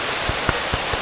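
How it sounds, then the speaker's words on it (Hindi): Rain falls in a steady hiss lasting about a second, with a few heavier drops landing as soft, evenly spaced thuds close by. "भाई बारिश आ गई"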